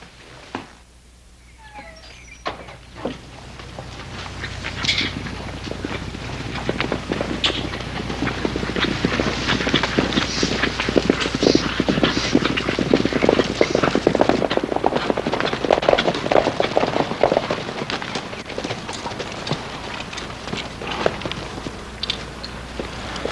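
Horse hooves clip-clopping along in an old Western setting, a steady run of hoof beats that builds and stays fairly loud over a background bed of scene noise, with no talking.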